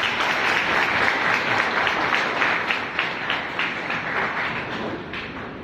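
A college audience claps together to welcome a Gujarat University registrar at a special lecture, giving dense, steady applause that thins slightly toward the end.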